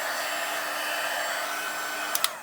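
A heat tool melts silver embossing powder on a stamped fall card, blowing a steady, close, loud whoosh that holds for the whole stretch and ends with a couple of small clicks.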